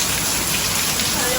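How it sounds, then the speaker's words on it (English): Rain pours steadily outdoors, a loud, close, unbroken hiss of drops hitting surfaces. "Just a little bit rainy now."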